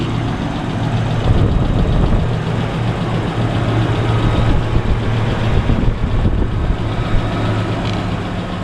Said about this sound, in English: this is it idling after I took those 2 mufflers out